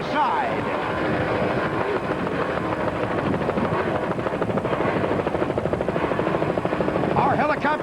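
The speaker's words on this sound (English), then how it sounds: "Let's listen to the sound of the engines as they do battle side by side." A loud, continuous roar of offshore racing powerboat engines running side by side in 1990 at Grand Haven, Michigan, with a pulsing, throbbing texture, close and steady, a faint whine rising near the end.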